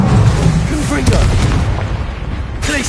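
A Confringo blasting spell explodes in Hogwarts Legacy amid a busy magical duel, its deep booms rolling under a steady bed of combat noise, whooshes and bright spell effects, with a loud burst near the end.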